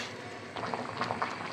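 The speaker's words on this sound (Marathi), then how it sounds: "गरम पाण्यामध्ये बुडवून घेऊयात आणि छानपैकी आहे ना 3 ते 4 मिनिटं मस्त उकळून घेऊयात" Spinach blanching in a pot of hot water, a low steady bubbling simmer with soft gurgling pops rising after a quiet start, close and fairly faint.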